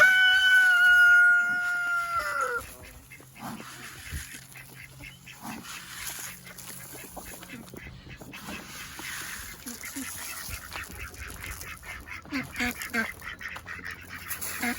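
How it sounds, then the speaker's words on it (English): Chickens are fed in a backyard and cluck and squawk in a busy, overlapping chorus close by, after a short, sustained high tone at the start. "let's feed these chickens"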